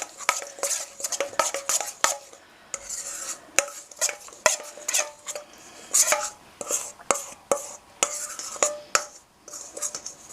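Seasoned potato wedges with herbs and olive oil get tossed in a bowl, producing irregular clattering scrapes and bursts of rustling in quick uneven rhythm, close up, with faint low voice barely present.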